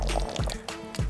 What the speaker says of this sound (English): we just be bubbling away